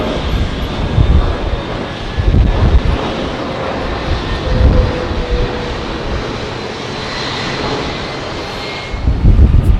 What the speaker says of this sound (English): Virgin Atlantic's 787-9, and that has come from Montego Bay